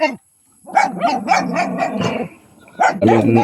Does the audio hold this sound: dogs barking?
yes